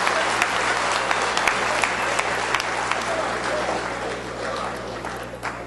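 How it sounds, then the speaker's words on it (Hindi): An audience at a Hindi poetry gathering claps loudly and continuously, a dense wash of applause with scattered sharper claps that slowly thins toward the end. "एक बार अगर मैडम की डिजाइनर साड़ी के लिए जोरदार ताली बजा दो"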